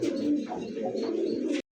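A pigeon coos up close, a soft, low, throaty warbling call repeated in a few rolling phrases, clear and alone against a quiet background.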